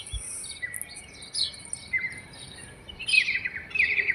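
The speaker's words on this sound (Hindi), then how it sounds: "सुबह सुबह पक्षियों की आवाज़, चहचहाहट," Birds chirp and tweet outdoors in the early morning, scattered high calls coming and going at a moderate distance over a quiet background.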